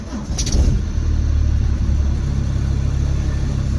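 A Volvo 850 on its first drive on new wheels gives a steady low engine rumble and road drone from inside the cabin, with a brief rise in revs near the start.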